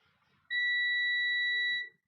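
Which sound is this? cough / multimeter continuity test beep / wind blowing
multimeter continuity test beep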